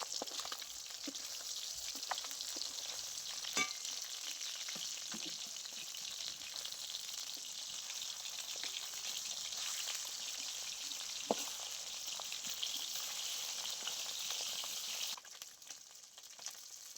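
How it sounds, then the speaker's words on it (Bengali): Fish pieces frying in very hot mustard oil in a kadai, giving a steady, dense sizzle with scattered pops and crackles that carries on unbroken, with no talking. "এবারে আমি তেলের মধ্যে একে একে মাছগুলো দিয়ে ভেজে নেব"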